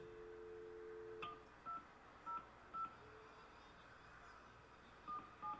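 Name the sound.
telephone dialing tones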